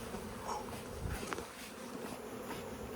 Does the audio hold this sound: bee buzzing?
yes